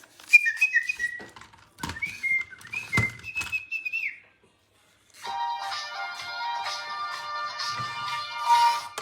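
A toy parrot chirps a series of whistled notes with clicks between them, then switches to a continuous electronic warbling melody.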